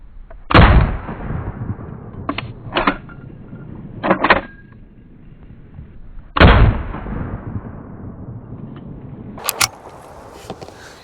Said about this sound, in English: Let's see what a jacketed hollow point 357 Magnum can do with them,